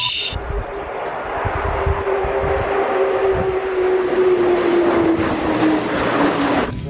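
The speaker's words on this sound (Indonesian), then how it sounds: "Lihat teman-teman, sepertinya ada pesawat luar negeri. Ini pesawat kargo." A cargo airplane flies overhead, its engine roar steady and loud throughout with a slowly falling whine as it passes, heard alone with no talk.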